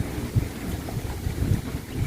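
Wind gusting outdoors near rice fields, buffeting the microphone as a rough, low, continuous rumble with uneven surges and no talking.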